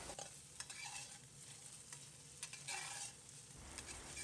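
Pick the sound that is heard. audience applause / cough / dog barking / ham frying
ham frying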